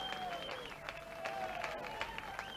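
Audience applause at a 1995 World's Strongest Man qualifying heat, a steady spread of clapping from a crowd with an announcer's voice running under it and a high whistling tone drifting above.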